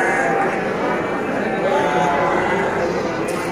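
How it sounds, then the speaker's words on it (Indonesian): Goats and sheep bleat repeatedly amid the steady crowd noise of a busy outdoor livestock market in Tanjungsari, mixed with continuous background chatter. "Ini kambing juga. Kambing."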